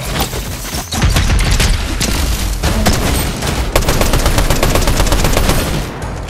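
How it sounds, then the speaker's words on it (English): Rapid sustained automatic gunfire from an automated turret in Fortnite, a video game, loud and dense bursts running almost continuously with booming impacts, no talk over it. "Turret, I guess."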